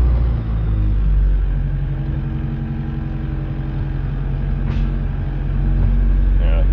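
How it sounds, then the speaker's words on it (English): A Honda Civic EF with a B16 engine runs with a steady, loud low engine drone throughout, slightly rising near the end, with a brief squeak in the middle. "So start this up, and then see if it's working. Take it around the block quick"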